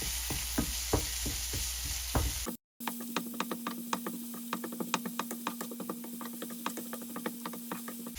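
Chopped tomato fries in a pan for an Indian prawns fry cooked in Japan, giving a close, steady sizzle dotted with sharp ticks and scrapes. A brief cut interrupts the sound, and no one speaks.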